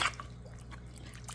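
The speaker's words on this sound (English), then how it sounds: "I'm just gonna scald them off with some Hot water." Hot water poured over cow foot and tripe to scald them, a soft splashing trickle near the mic that stays low and continuous with a few brighter drips.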